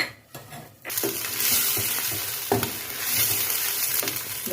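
Chopped garlic and ginger fry in a pan for a mutton and cauliflower curry, a loud, steady sizzle with a few stirring scrapes and clinks of the utensil against the pan.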